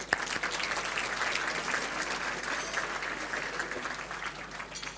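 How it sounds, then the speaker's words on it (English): Dense, even applause fills the room at a family winter gala dinner, a sustained crowd of clapping hands heard alone for about five seconds. "Round of applause, please."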